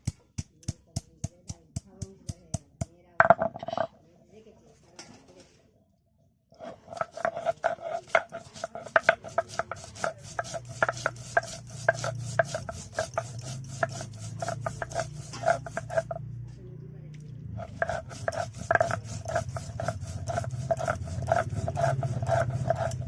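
Spices with black peppercorns being ground into a paste for an okra, potato and fish curry, heard as rhythmic rubbing and grinding strokes, near and fairly loud, with a short pause partway and a low rumble later.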